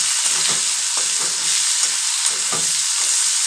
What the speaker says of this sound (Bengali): দেখো, জিরেটা ফোড়ন দিলাম, এবারে পেঁয়াজ দিয়ে দিচ্ছি